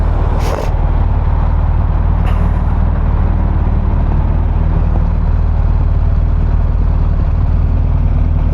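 A vehicle on the road idles loudly and close by, a steady low engine rumble running throughout, with a brief sharp hiss of air brakes near the start and another short release a moment later.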